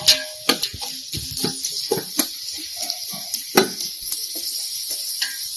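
Onions, mustard seeds and cumin frying in oil for Nellore-style fish curry, with a ladle clattering and scraping around the pot in irregular knocks over a steady hiss.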